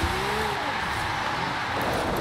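A 2013 Ariel Atom 500 V8 in Forza Horizon 5, its engine droning and revving steadily as the throttle is feathered during a drift, with a faint voice beneath.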